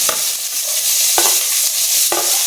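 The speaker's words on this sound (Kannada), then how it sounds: "ಫ್ರೈ ಆಗಿರೋ ಈರುಳ್ಳಿ ಹಸಿಮೆಣಸಿನ್ಕಾಯಿ ನೋಡಿ ಫ್ರೆಂಡ್ಸ್ ಈರುಳ್ಳಿ ಫ್ರೈ ಆಗಿದೆ" Chopped onion and green chillies frying in oil with mustard seeds in a pan. A steady close sizzle is broken by three sharp knocks of a spoon stirring against the pan.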